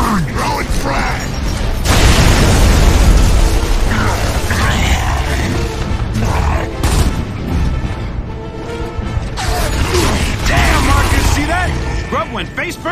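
A frag grenade detonates in Gears of War 2 near a hospital, a loud broadband blast around two seconds in that rumbles on under dense battle noise, clanking mechanisms and shouted voices.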